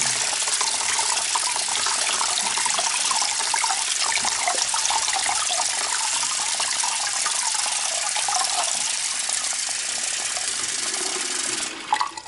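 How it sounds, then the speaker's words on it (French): Rice is rinsed under running water, a loud, steady rushing splash from a tap that continues unbroken for about twelve seconds before cutting off at the end. "Vous allez rincer votre riz avec de l'eau."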